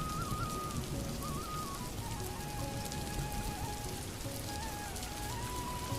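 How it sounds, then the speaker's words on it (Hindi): Heavy rain falls steadily at night, a dense, even hiss of drops on surfaces that stays constant throughout with no talk. "वह दोनों घर चली जाती हैं और रात भर तेज बारिश होती है।"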